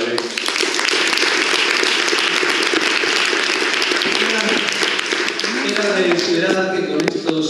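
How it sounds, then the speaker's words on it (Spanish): Audience applause at a journalism conference panel in Andalusia, a loud continuous wash of clapping filling the room throughout, with some voices emerging toward the end. "un aplauso también para Belén"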